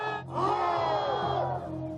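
A crowd at a festival with mounted samurai in traditional armor lets out a loud, sustained collective shout and cheer, many voices rising together and holding for about two seconds.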